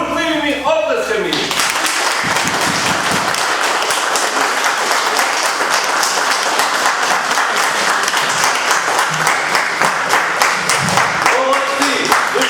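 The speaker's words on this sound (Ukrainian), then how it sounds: "бурхливими оплесками." Concert audience at a local Ukrainian folk event giving stormy applause, loud sustained clapping filling the whole stretch, with a voice briefly heard at the start.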